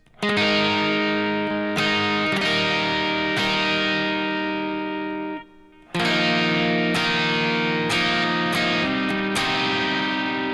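Guitar strums a chord progression run through distortion and effects, each chord ringing out with long sustain, a brief drop near the middle, then more chords struck in a steady rhythm, loud and close, with no talking.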